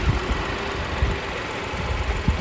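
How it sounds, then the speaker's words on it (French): A Mini Clubman petrol engine idles steadily at close range, a low rumbling hum with faint irregular knocks and no voices. "on est sur un moteur essence, c'est super silencieux"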